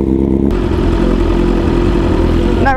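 A BMW S1000RR sport motorcycle engine running loud and close, a steady throbbing idle with mechanical clatter and a brief rev at the end.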